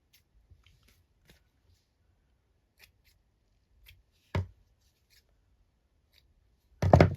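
Scissors snip through fraying cheesecloth for a journaling card: one crisp cut, then a longer crunchy snip a few seconds later, close by in an otherwise quiet room with faint small rustles.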